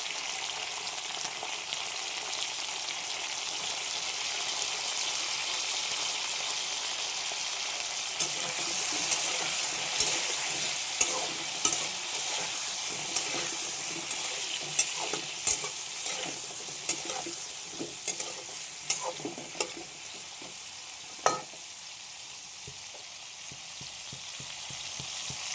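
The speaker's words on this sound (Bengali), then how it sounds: "পটলগুলো ভেজে নিচ্ছি হালকা করে, লবণ" Pointed gourd (potol) pieces frying lightly in oil with salt and turmeric: a steady soft sizzle throughout, joined halfway by a run of sharp spatula scrapes and clacks against the pan.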